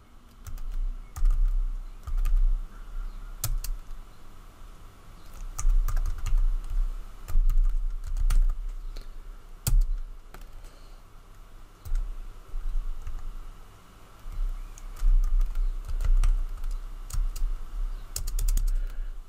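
Computer keyboard typing while a password is set on a root login for an AIX virtual machine, with bursts of close, crisp key clicks and short pauses between runs, no talking.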